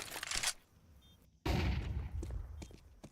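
Gunfire in the video game Counter-Strike 2, with a burst of sharp shots, a short silence, then another loud cluster of shots and quieter trailing pops.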